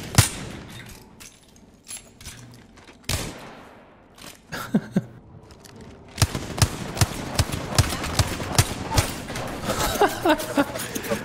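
Gunfire in a video game cracks out in scattered single shots, then a rapid, steady string of sharp reports near the end over a busy background of clangs and action noise.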